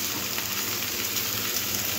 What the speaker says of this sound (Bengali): পেঁয়াজটাও সবজির সাথে খুব ভালো করে ভেজে নেব।